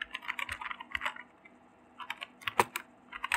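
Keys clatter on a computer keyboard as an announcement is typed out, irregular bursts of close, crisp clicks with short pauses between words and a louder keystroke near the end; no voices.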